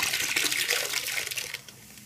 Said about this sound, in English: Let's pour the whole bottle